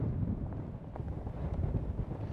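Strong wind buffets the microphone on a wet, grey beach during a dune and beach race, a low, steady rumbling gust noise with no voices.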